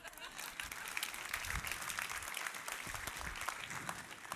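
A church congregation bursts into applause, a dense, continuous wash of many hands clapping for several seconds, with voices mixed in the crowd.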